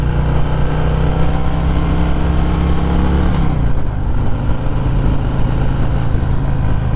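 A 2021 Harley-Davidson Fat Boy motorcycle idles with a deep, steady exhaust rumble through a 2-into-2 exhaust, dropping slightly in pitch midway and continuing loud and close throughout.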